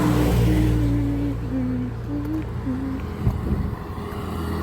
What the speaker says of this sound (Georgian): დაუკოლე მანქანა მოდის